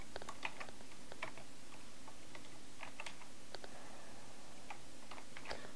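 Fingers type on a computer keyboard in a quiet room, a faint, irregular patter of light clicks that continues for several seconds with no talking.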